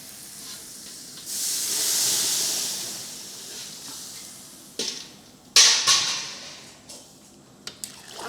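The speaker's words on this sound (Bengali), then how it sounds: "এখন আমি এটার মধ্যে জল অ্যাড করলাম" Water poured into a hot cooking pan holding a green chili paste mixture gives a broad, loud hiss that swells and fades over a couple of seconds, followed by scattered clanks and stirring noises, with no talking.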